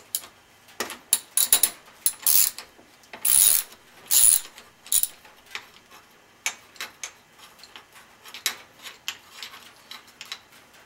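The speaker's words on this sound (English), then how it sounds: "I'm going to take a ratchet, and this is a 13mm, and I'm just going to go ahead and remove the bolts." Ratchet wrench with a 13mm socket clicking as it loosens bolts on a BMW F650GS motorcycle, close and fairly loud, in irregular bursts of rapid ratcheting with short pauses between strokes.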